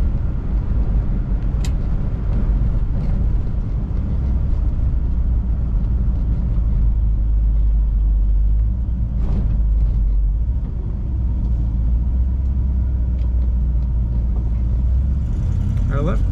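A 1957 Cadillac Series 62 convertible driving, a steady low engine rumble and road noise heard from inside the car, with a few faint clicks and knocks over the continuous drone.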